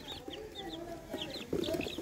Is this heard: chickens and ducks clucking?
yes